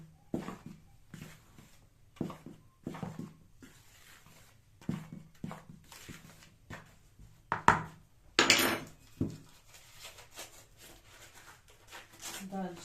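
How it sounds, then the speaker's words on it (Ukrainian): Stirring in a pan while mixing baking powder and powdered sugar, a steady series of light scraping and clinking strokes at close range, with a louder clatter partway through, all under quiet surroundings. "Так, перемішуємо."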